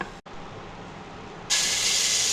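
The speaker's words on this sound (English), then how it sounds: "Saute for a couple of seconds till all the whole spices infuse the flavor in the oil and ghee" Whole spices such as clove and cinnamon sticks hit hot oil and ghee for mutton biryani, giving a steady close hiss that surges into a loud, bright sizzle partway through.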